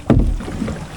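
A motorboat heading out to sea off Manitoulin Island, Ontario, at about 30 km/h, a sudden loud whoosh of water and wind rumble that settles into a steady, close roar.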